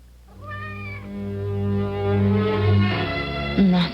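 Cat meowing in an old radio drama, one long drawn-out meow sliding in pitch, close and clear with no talk over it.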